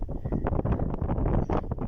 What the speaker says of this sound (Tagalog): Sarap dito, mahangin.